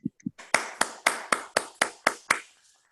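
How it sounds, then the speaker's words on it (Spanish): About eight crisp, separate claps from a single person ring out at an even pace after a presentation at a virtual event, close and clear against near silence. "Pues aunque sea virtual, un aplauso para Luis."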